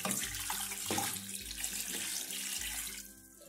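One litre of water pours from a tap into a pan holding rapadura, a steady splashing gush with a low hollow resonance that thins out near the end, with no voices.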